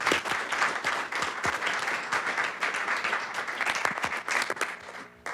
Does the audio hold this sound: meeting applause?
yes